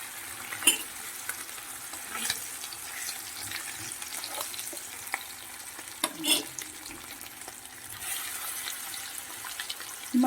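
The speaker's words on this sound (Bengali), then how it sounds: "মাছগুলোকে ভেজে নিচ্ছি এরকম কড়কড়া করে ভেজে নিলাম" Fish pieces frying crisp in hot oil, a soft steady sizzle with occasional clinks and splashes from a nearby kitchen, moderately quiet and without speech.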